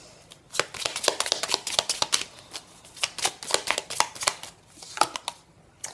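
Cards from a forest oracle deck being shuffled and handled up close, a quick run of crisp riffling flicks and slaps in uneven bursts, heard alone.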